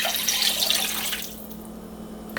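Broth pours steadily into a pot of pumpkin soup, a continuous liquid splashing that stays loud for about a second before settling into a quieter trickle, with no talking.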